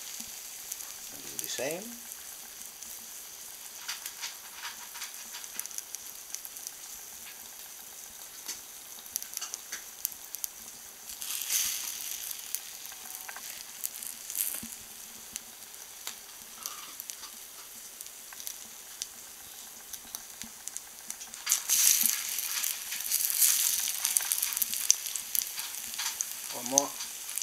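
Egg-soaked cheesy bread fries in oil, a steady crackling sizzle that swells louder as each slice goes into the pan, with a few knocks and a brief spoken phrase near the start.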